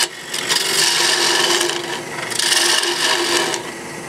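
A detail gouge carving into wood, giving steady rasping, scraping strokes in two longer bursts at close range with no talk.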